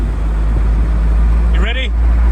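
A Honda S2000 with a titanium twin loop exhaust cruises in 4th gear at low speed, its deep, even exhaust drone continuous and loud, with a brief voice over it.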